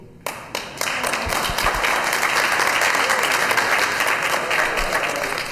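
Sustained applause from a large audience at a public meeting, dense and steady clapping swelling in after a few sharp claps and holding loud throughout.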